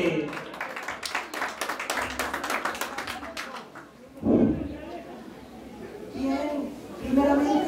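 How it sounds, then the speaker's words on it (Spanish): Clapping for a woman celebrating her 50th birthday at a family party, a dense burst of hand claps through the first few seconds that thins out, followed by people talking. "Lo decimos con un fuerte aplauso"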